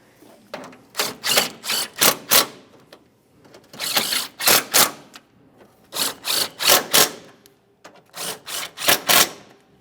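A ratchet clicks in quick, rhythmic bursts, pausing between strokes, as two 10mm radiator mounting bolts are snugged on a 2008-2017 Mitsubishi Lancer 2.4L, loud and close.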